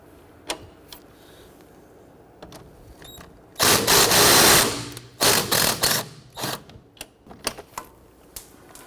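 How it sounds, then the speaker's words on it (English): A 14mm wrench works the sway bar link nut on a 1992-1996 Toyota Camry, giving sparse metallic clicks followed by a burst of loud, rapid ratcheting and rattling clatter that tapers into scattered taps. "We're going to use our 14mm wrench."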